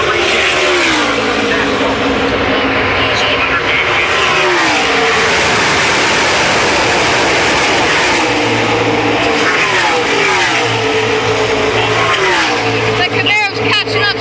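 NASCAR race cars roar around Talladega Superspeedway, loud continuous engine drone with rising and falling pitch sweeps as cars pass, while a commentator talks over the racing.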